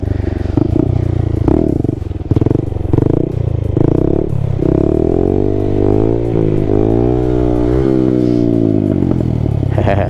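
A little Honda Grom motorcycle runs steadily with its engine note rising and falling as the rider works the throttle during wheelie practice, loud and close with some clattering at the start.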